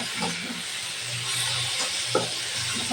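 Washed masoor lentils fry in a pan, giving a steady close sizzle and hiss throughout with faint stirring scrapes and a brief clink near the end.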